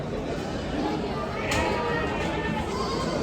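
Goats bleat now and then amid a noisy outdoor crowd at a large livestock market in Maharashtra, with people chattering and talking throughout.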